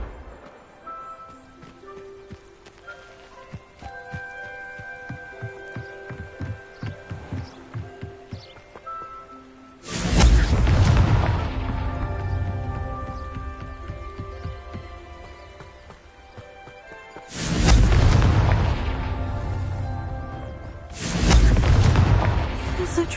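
In the Hogwarts Legacy video game, the Confringo spell sets off three loud, booming fire blasts, each with a long rumbling tail, following a stretch of clopping hooves and quieter game sounds.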